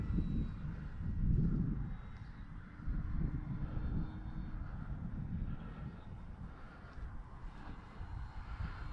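An E-Flite FW 190A RC model plane flies at about three-quarter throttle, its engine a steady, moderately distant drone mixed with outdoor wind rumble, without talk.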